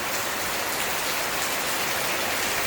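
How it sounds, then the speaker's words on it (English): Rain falls heavily on a house in Surin, Thailand, a dense, even roar of drops with no pauses and no voices. "You get rain every day."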